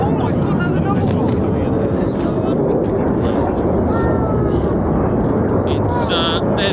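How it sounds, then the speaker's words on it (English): Fighter jet aircraft passing over RAF Lakenheath, home of F-15s and F-35s, a loud continuous roar filling the whole stretch with steady broadband rumble, wind buffeting on the microphone. "there's aircraft absolutely everywhere"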